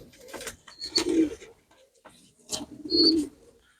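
A young yellow wood pigeon chick gives two soft, low coos about two seconds apart, close by, with quiet handling noise around them.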